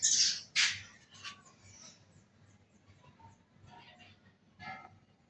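Kite birds call in a town street, a few sharp squawking cries up close at the start followed by fainter scattered calls over a low background hum.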